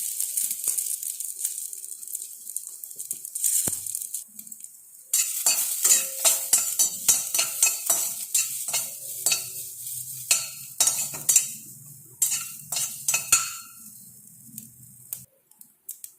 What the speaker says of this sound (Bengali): শুকনো লঙ্কা, আস্ত জিরে ফোড়ন দিয়ে দিচ্ছি।